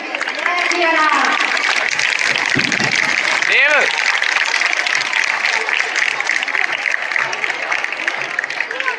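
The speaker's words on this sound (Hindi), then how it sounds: "तो इनके लिए तो डबल तालियां बनती है।" Audience applause for the chief guest at a school annual function, a dense wash of clapping filling the whole stretch, with voices and other sound mixed in beneath it.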